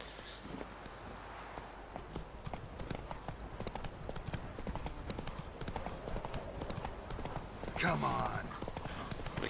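Horse hooves clip-clop steadily throughout in The Witcher 3 video game, a continuous rhythmic gait under someone talking, with a brief whinny-like sweep near the end.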